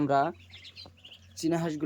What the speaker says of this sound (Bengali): চীনা হাঁসের বাচ্চাগুলো কত সুন্দর সুন্দর বাচ্চা